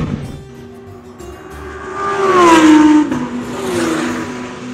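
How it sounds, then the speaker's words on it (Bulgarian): A green Lamborghini Huracan race car accelerates hard on a racetrack, its engine note climbing in a steady rising rev to a loud peak mid-clip before easing and building again, heard alone without talk. "Явно хем ги кара, хем дава газ."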